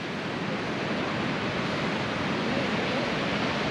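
Strong wind blowing at Sopot beach, a steady, loud broadband rush with no gaps, likely mixed with surf and buffeting the microphone.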